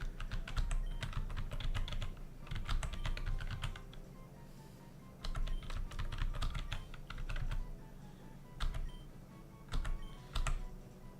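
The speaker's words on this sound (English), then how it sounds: "I just tried typing it in the keyboard." Keys clatter steadily on a computer keyboard in bursts of rapid tapping separated by short pauses, close and fairly loud with a low background hum, no voices.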